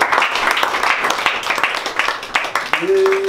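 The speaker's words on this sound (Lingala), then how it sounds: "on peut acclamer jésus christ de nazareth" A church congregation claps and cheers in acclaim of Jesus Christ, a dense burst of applause under loud overlapping voices.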